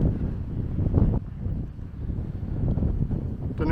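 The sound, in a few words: wind blowing through a valley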